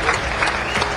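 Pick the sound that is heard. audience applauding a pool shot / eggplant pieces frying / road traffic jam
audience applauding a pool shot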